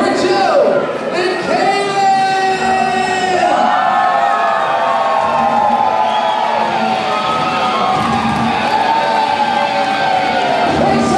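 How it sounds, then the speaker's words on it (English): A wedding crowd cheers for newlyweds introduced for the first time, with loud, sustained whoops, shouts and excited voices continuing throughout at close range. "Let's have a huge round of applause for Joe and"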